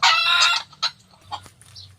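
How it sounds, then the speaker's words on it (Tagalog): A rooster crows loudly and close, followed by a few short clucks trailing off into quiet. "Tumahimik ka manok."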